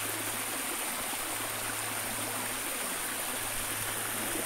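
Steady rushing water from a small forest cascade, a continuous even wash of noise with no breaks, moderately close.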